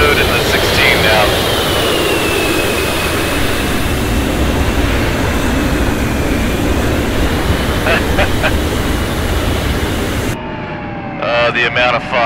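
An F-16 jet taxiing off-road over sand and rough ground in the DCS World flight simulator, a loud continuous turbine whine and rushing roar with a slowly shifting high tone, cutting out near the end as brief talk follows.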